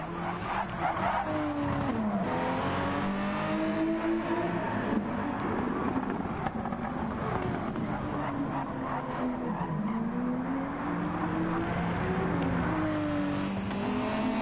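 Race car engines in a PS4 racing video game drone continuously, their pitch sweeping up and down through gear changes, with occasional tire squeal layered over the steady roar.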